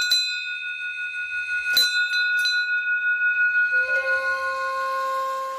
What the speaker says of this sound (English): This bell is for scaring off bears.